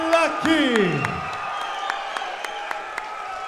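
A crowd at an MMA fight night cheers a fighter's introduction, with loud whoops and shouts at first, then scattered claps and cheers that settle into a lower steady roar.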